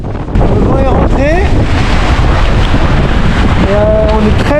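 Strong wind buffets a racing sailboat on the foil, close-hauled at sea off the Bay of Biscay, a steady loud roar of gusts and water rush with brief faint voices underneath.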